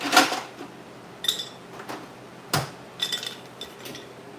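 Ice clinks and rattles inside a container in a few scattered bright knocks and jingles, close by with no voices.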